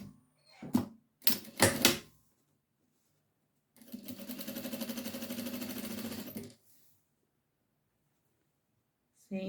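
A sewing machine runs a seam joining an English embroidery band to fustian for a baby bib: two short close bursts of stitching, then a steadier run of about three seconds before it stops.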